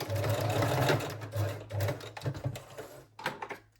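A sewing machine locks a seam on a reversible ruffle bikini top, running in quick close bursts of rapid needle chatter with a low motor hum, then stopping briefly before a final short stitch.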